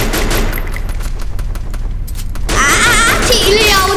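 Rapid bursts of M60 machine gun fire in the Free Fire battle game, a dense run of repeated shots for about two seconds, followed by other game sounds and effects.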